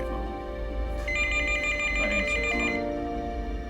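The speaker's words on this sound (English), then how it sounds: "But at that instant, the phone rang." A telephone rings with steady, bright electronic tones that change pitch partway through, heard on its own with no voices.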